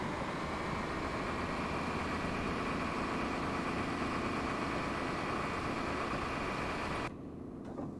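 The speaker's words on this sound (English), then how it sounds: "I want to hear the engine" A train engine in Train Simulator 2020 on the North Wales Coast Line hums at a steady, moderate level with a low, droning idle that drops off abruptly near the end.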